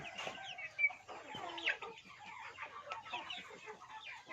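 Several chickens cluck and murmur close by, with busy overlapping calls and a few louder squawks.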